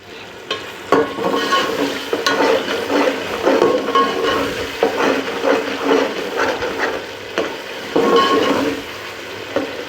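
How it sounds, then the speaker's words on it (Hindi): Tomatoes for a beef yakhni pulao roasting over a high flame, a steady close sizzle and frying hiss broken by repeated stirring scrapes in the pot, continuous throughout with no talk. "एक से 2 मिनट तक हम इनको तेज़ आंच पे ही भून लेंगे"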